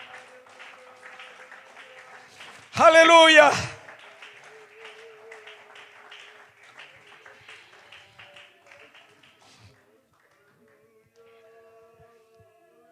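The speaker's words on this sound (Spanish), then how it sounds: "Dele ese aplauso a Jesucristo esta mañana." A church congregation bursts into a brief, loud round of applause lasting under a second, set between a preacher's sermon voice that continues before and after.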